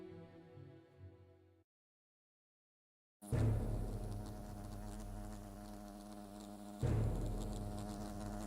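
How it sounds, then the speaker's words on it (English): Wasps in the video game Fable Anniversary give a steady, close insect drone. A thin hum drops out into near silence, then a loud, dense buzzing swells back in and rises again near the end. "Wasps!"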